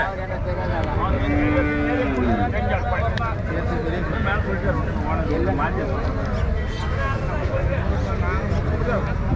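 Native cattle low and moo repeatedly at a bustling livestock market in Mattrapalli, several drawn-out calls rising over constant crowd chatter and people talking nearby.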